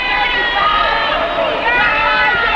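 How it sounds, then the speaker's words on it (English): A wrestling crowd at a main event yells steadily at the wrestler Joe Pozendak, a dense and constant roar of many voices with no pause. "it's a crowd yelling their ideas and their thoughts against Pozendak, this wrestler"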